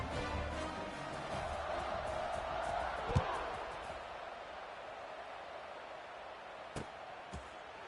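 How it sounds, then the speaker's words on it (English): College football stadium crowd at a Duke versus Ole Miss game after a scoring drive, a steady broad roar of many voices sustained throughout, with a few brief louder thumps. "this crowd is feeling themselves after that last drive"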